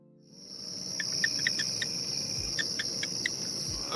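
Steady high-pitched chirping from male toads over a constant insect drone, with repeated short chirps in a loose rhythm.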